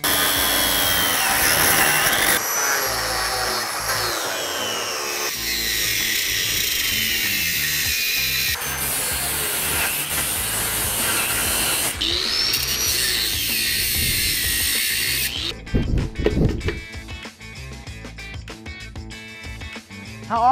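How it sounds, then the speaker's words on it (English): A loud power tool cuts through a car radiator's end tanks and metal core in several sustained passes. The harsh whining grind shifts pitch between cuts, and rougher, choppier scraping follows at the end. "I'm gonna cut off the end tanks and then I'm gonna cut straight through the core"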